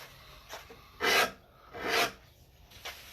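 A hand rasp scrapes across a wooden guitar neck during rough carving, giving a few quiet, close, dry rasping strokes, two longer and several short, with no talk.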